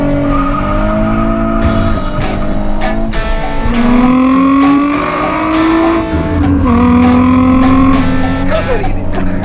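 A Nissan 350Z pulls away with a loud, close engine note that climbs through revs, dips at a gear change and rises again, with a brief tire chirp near the end.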